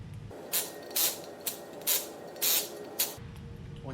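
An impact gun rattles off a series of about six short bursts, each roughly a third of a second, loosening the five bolts on a shroud and vane assembly; the bursts are close and loud over a steady background hum.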